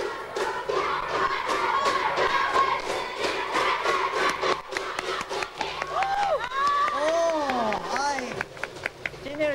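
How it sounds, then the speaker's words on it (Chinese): A live audience at a 1994 TV variety show claps and shouts in rhythm, loud and close, while voices call out over the crowd. "节目里面从头到尾都是欢呼声"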